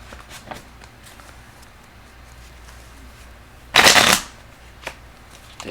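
Tarot cards riffle in one loud, quick shuffle lasting about half a second, close up, with a few soft card taps and handling noises around it in a quiet room.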